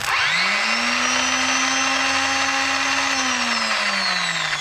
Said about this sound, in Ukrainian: На стартері їхати можна. Стартер працює.